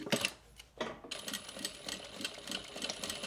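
A sewing machine back-stitches the strap ends of a make-up bag, a quick brief burst followed by a steady rapid mechanical chatter of the needle, close and fairly quiet.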